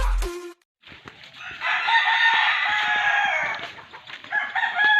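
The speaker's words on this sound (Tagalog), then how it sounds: "Dami kang manukan dito Ayan Ang mga manukan sa aking tiyuhin" Chickens and a rooster at chicken coops on a farm: a close rooster crows loudly and at length while hens cluck around it, following a short burst of noise at the start.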